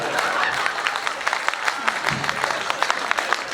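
An audience claps through a poetry recital in Pandhurna, the applause dense and sustained with a voice speaking partly over it.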